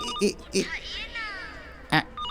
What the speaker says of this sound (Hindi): ये रिंगटोन नहीं है आंटी, अलार्म है।